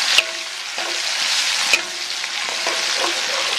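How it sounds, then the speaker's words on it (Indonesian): Shallots, garlic, crushed galangal, crushed ginger, lemongrass stalks, lime leaves and orange bird's-eye chilies sauté in hot oil with a steady bright sizzle, broken by a couple of sharp utensil clicks as the mix is stirred. "Kita tumis ya."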